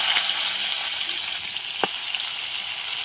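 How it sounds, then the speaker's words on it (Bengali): Sliced onions and black cumin seeds frying in hot oil in a pan, giving a steady, loud, close-up sizzle with a faint clink partway through, and no talking. "পেঁয়াজটা একটু ভাজা ভাজা করে নেবো"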